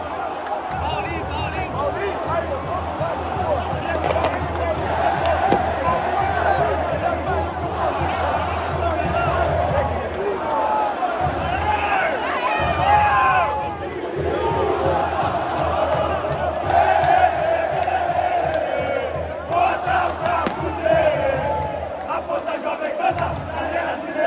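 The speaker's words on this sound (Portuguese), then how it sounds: "Olha a alegria da torcida do Vasco." Vasco supporters roar and chant at São Januário stadium after their team opens the scoring, a dense, continuous crowd noise of shouting and singing that swells and holds for the whole stretch.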